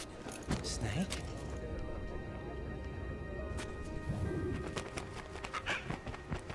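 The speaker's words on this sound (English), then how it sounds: "It's the bird." A pigeon coos in Metal Gear Solid 2 with low, soft calls that recur several times under ongoing conversation, amid occasional sharp clicks and game ambience.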